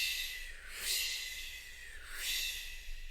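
A voice imitates whooshing swimming strokes with two long breathy swishes, rising and falling in an even slow rhythm, close and fairly quiet.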